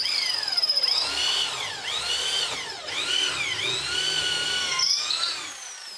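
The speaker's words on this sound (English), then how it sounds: "why don't I just pop this into my drill press, make it a nice 90 degrees, and then use it as a pilot to go down" A drill press bores a straight 90-degree pilot hole, its motor whining loudly and close with rising and falling pitch sweeps as the bit bites and eases, running steadily for about six seconds.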